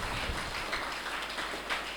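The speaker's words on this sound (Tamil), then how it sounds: "நாம் கைத்தட்டி நம்முடைய நன்றியை தெரிவிப்போம்" Congregation applauding during a church mass, a dense, steady wash of clapping from many hands heard at a moderate distance.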